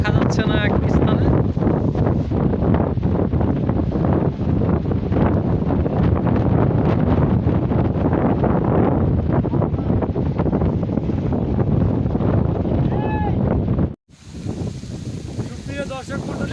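Boat drifting in a strong current on the Padma river during rain, heavy wind buffeting the microphone with rushing water and rain noise, loud and continuous before cutting abruptly near the end.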